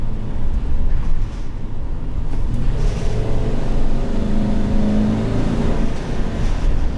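A 2020 GMC Savana 3500HD cutaway with a 6.0L Vortec V8 runs as a loud, steady engine drone heard from inside the vehicle, with no talking.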